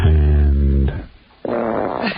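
A group of people imitate farts with their mouths at a tennis match, making two loud, low, buzzing raspberry blasts separated by a short pause.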